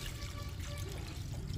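Half a dipper of water poured onto newly transplanted hot pepper and tomato plants, a soft steady splashing trickle close by, low and continuous with no voices.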